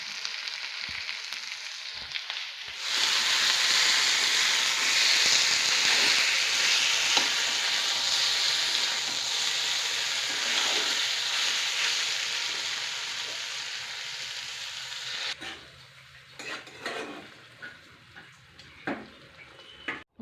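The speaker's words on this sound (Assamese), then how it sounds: "এয়া গাহৰি মাংস বনাইছোঁ আজি দুপৰীয়া খাবলৈ" Pork meat with lai leaves frying in a pan, a loud steady sizzle that starts abruptly and holds for a long stretch, then breaks into stirring clatter and scattered pops as it quiets.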